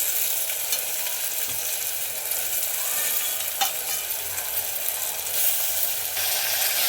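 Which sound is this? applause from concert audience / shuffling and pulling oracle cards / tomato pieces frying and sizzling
tomato pieces frying and sizzling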